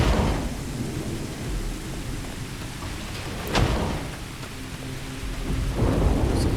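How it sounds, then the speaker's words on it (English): Stormy weather on a planet in the game Starfield: steady heavy rain with low rolling thunder and a sharp crack partway through, no voices heard. "There's some lightning on this planet."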